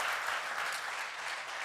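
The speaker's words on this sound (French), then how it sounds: "Je pense qu'on peut les applaudir pour ces" Steady audience applause fills a conference hall after presentations of projects, dense and continuous clapping with no voices over it.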